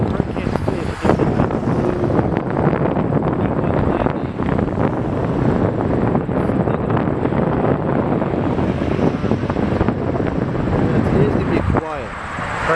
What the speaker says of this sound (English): There is wind.